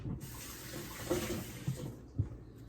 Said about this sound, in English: And now I'm going to rinse the onion.